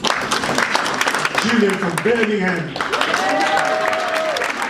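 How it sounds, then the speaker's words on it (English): A live audience applauds silver builders at a UK launch event, a steady wash of clapping running throughout while someone speaks over it, introducing a person by name and town. "Round of applause for our silver builders"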